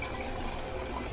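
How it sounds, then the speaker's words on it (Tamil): Water is poured into a cooking pot holding sautéed cluster beans for a tomato chutney, a soft, steady splashing trickle heard faintly and alone. "இதில் கொஞ்சமாக தண்ணி போட்டுக்கலாம்."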